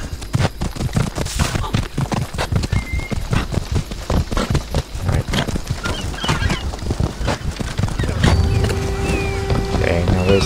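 Horse hooves clip-clop in a video game in a quick, steady rhythm throughout. A game voice is heard partway through, and a whinny and other game sounds join near the end.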